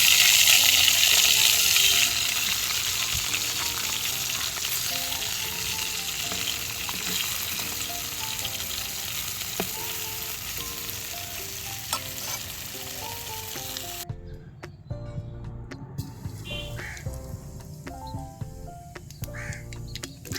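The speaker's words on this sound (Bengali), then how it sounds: "কড়াই গরম হয়ে গেছে এবার লবণ হলুদ মেখে মাছটা ভেজে নিচ্ছি" Pona fish rubbed with salt and turmeric fries in a hot karahi with a steady, loud, close sizzle that crackles throughout and drops to a quieter bubbling near the end.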